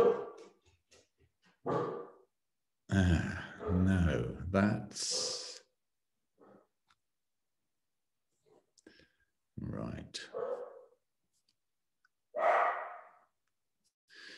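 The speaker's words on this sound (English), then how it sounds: "My dog is barking because he's found a mouse somewhere." A dog barks indoors after finding a mouse, giving a few short, loud bursts mixed in with a man's nearby speech, separated by quiet gaps.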